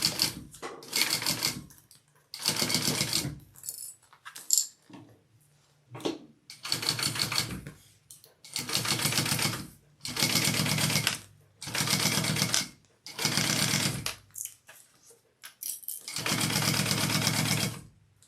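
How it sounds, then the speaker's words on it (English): A sewing machine stitches two handbag lining pieces together in a series of close, steady mechanical whirring bursts separated by short pauses. "So I'm just sewing the 2 lining pieces there."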